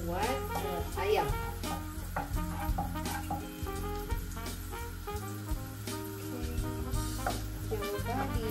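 Potatoes fry in a pan with a steady, faint sizzle and occasional stirring clatter, while a person talks and music plays in the background.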